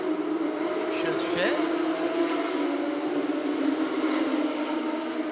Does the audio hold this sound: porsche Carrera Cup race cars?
yes